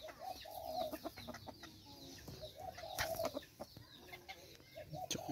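Chickens clucking nearby in a steady, busy chorus of short repeated calls, with occasional louder squawks and no talking.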